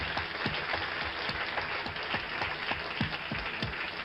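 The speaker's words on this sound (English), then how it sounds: "Now, I'll applaud." Studio audience applause on a late-night talk show, a steady wash of many hands clapping at a fairly distant, even level, with no talking over it.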